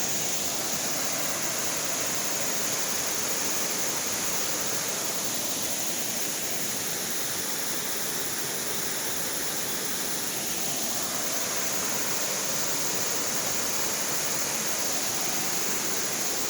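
Three waterfalls pour together in a secluded natural spot after recent rain, a steady, dense roar of falling water filling the whole stretch without pause, no one talking.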